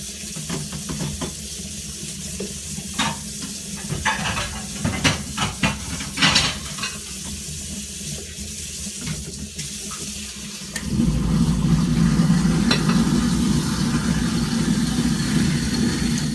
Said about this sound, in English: Gorraasa, the Sudanese flatbread, here on this griddle.